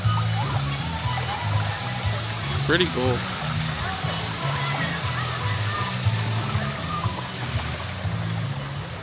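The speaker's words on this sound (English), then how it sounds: "And they got this nice big waterfall." Big waterfall at Disney's Blizzard Beach water park, a steady broad rush of falling water throughout, with people talking over it and a low music bed underneath.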